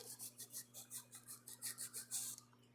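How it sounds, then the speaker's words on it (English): A fine 180-grit file rasps against a fingernail in about a dozen quick, even back-and-forth strokes, close and fairly faint, with no talking over it. "we're just going to continue filing around now that it's all the way dry"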